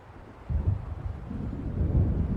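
Low rumbling thunder of an approaching storm in the video game Alan Wake Remastered swells in and keeps rolling steadily, a deep distant roar with no talking over it.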